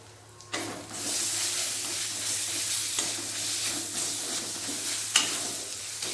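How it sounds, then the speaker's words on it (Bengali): A steady loud sizzle as ginger-garlic paste hits hot oil with fried onion paste, with occasional scrapes of stirring against the pan, heard up close. "আদা রসুন ভালোভাবে ভেজে নেব"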